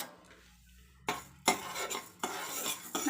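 Horse gram dry roasting in a pan, quiet at first, then a few sharp scrapes and rattles of the seeds being stirred against the metal, short bursts spaced about a second apart.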